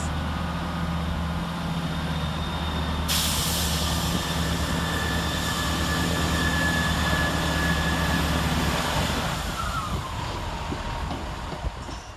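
Great Western Railway diesel unit 165121 pulls out of Twyford station on a Henley-on-Thames service, a loud, steady engine drone with a rising whine and rail hiss, close by and with no talk.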